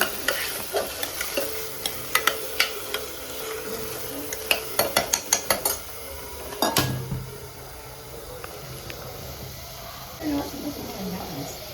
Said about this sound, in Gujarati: હવે થોડા ટમેટા એડ કરી દેશું. હલાવી લેશું.